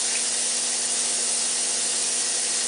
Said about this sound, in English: I'm gonna wash my hands